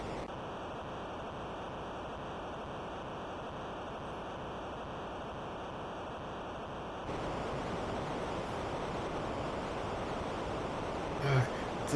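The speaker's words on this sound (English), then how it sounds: "you see the sea is now bubbling" A steady wash of surging sea in a video game cutscene, the water bubbling in a dense roar that shifts and thickens partway through, with a brief rustle near the end.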